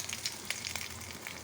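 Bread slices dipped in egg seasoned with salt and ground roasted cumin fry in a pan, giving a faint, soft sizzle with a few light crackles.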